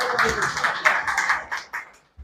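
Scattered clapping from an audience at a Hindi poetry gathering in Guna, Madhya Pradesh. Many hands make an uneven patter that thins into a few separate claps and fades out.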